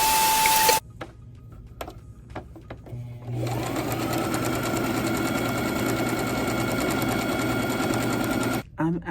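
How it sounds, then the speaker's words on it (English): A home sewing machine runs a steady, fast zigzag-style decorative stitch, starting after a brief pause and humming continuously at close range with a rhythmic mechanical chatter until it stops near the end. "It's like almost like a zigzag stitch, but it's like my favorite stitch on my machine."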